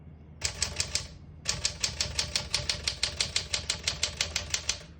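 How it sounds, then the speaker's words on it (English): A 1963 Smith-Corona Sterling portable typewriter types in a quick steady run of crisp mechanical key strikes, close up and loud, with a brief pause after the first few keystrokes before a long even stretch. "We're going to keep it on single and finish typing."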